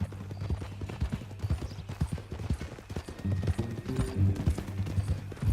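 A horse in Red Dead Redemption 2 walks with a steady, rhythmic clip-clop of hooves close by, with faint ambient game sounds underneath and no talk.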